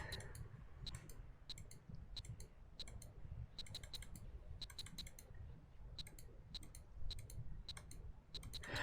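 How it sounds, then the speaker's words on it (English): A computer mouse clicks over and over to perform CPR in the PC emergency-services game Emergency 4 with the Montana mod, giving a steady run of sharp, close, quiet clicks in uneven clusters with no talking. "do we just keep clicking Give CPR?"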